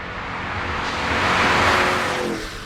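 A roughly 700-horsepower Cadillac Escalade V or Mercedes-AMG G63 SUV accelerates hard, its engine and exhaust building into a loud, broad roar that swells and peaks near the middle before easing slightly, with no talk over it.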